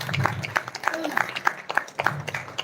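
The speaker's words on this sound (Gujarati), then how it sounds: "તાળીઓ બંધ ન થવી જોઈએ, તાળીઓ પાડો" At a Bhadarvi Amas festival gathering in Virpur, a crowd claps with sharp, fairly close claps in an uneven burst, and voices talk over the clapping.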